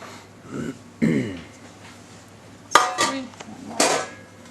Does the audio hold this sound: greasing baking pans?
yes